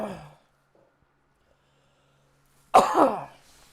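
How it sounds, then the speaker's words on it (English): A man gives a short throat-clearing cough, followed by near silence and then one louder, rougher cough, both close and alone. "Let's get a couple good coughs here."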